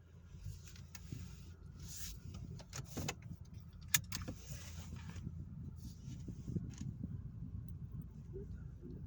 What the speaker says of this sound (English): Now there's a car behind me blocking my...